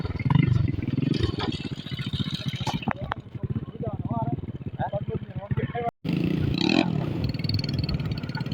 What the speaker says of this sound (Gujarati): તો આપણે બે જઈએ બાઇક ઉપર